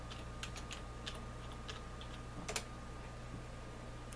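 Keys tapped on a computer keyboard while typing a search, a few soft clicks scattered across a few seconds, a small flurry near the end, faint and close over a steady low hum.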